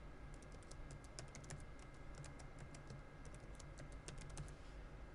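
A password being typed on a computer keyboard: a steady patter of soft, close key clicks in uneven bursts, quiet against a constant background hiss, with no voices.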